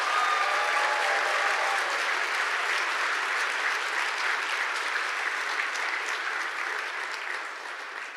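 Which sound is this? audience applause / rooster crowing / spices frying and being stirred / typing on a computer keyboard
audience applause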